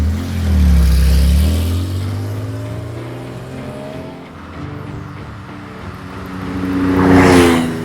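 A Porsche 911 Carrera 3.2 pulling away, its engine note rising and falling as it drives off with audible tire noise, then a closer whoosh of another passing vehicle at the end.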